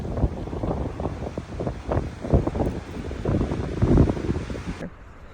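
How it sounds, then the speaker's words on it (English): Strong gusty wind at a desert KOA campground near Joshua Tree and Palm Springs buffets the microphone in loud, rushing surges that rise and fall for several seconds before easing off abruptly. "It is like crazy windy here."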